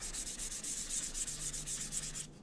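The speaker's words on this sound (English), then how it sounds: "I will just take a sanding pad and we'll lightly sand this just to lighten up" A sanding pad rubs lightly over a wood-burned sheep design on a wooden surface, a soft rapid back-and-forth scratching in even strokes, close and quiet, with no voices.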